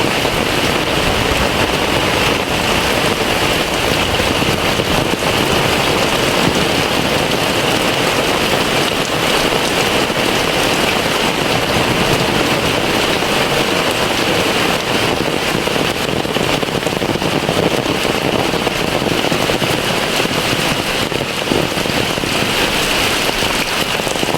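Heavy rain pouring steadily over a quiet village of old houses, a dense unbroken hiss of drops on roofs and ground, loud and constant for the whole stretch with no voices.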